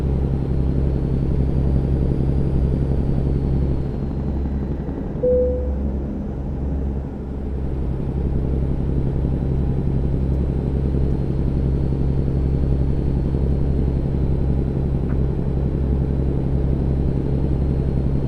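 A Cummins N14 diesel in an American Truck Simulator truck drones at a steady, deep, even rumble from the cab for the whole stretch, with no talk over it.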